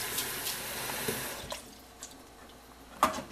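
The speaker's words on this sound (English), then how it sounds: "So I will wash the paneer with the cold water" Cold tap water splashes and drips while paneer made with lemon juice is rinsed under the faucet in a home kitchen, with soft, uneven trickling and a few brief louder splashes.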